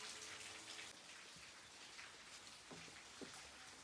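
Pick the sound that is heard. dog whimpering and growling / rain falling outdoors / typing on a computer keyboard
rain falling outdoors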